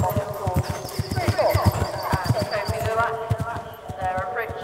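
Eventing horse gallops over a cross-country course at Cirencester Park, hooves drumming in a steady rapid rhythm beneath continuous commentator speech and crowd ambience.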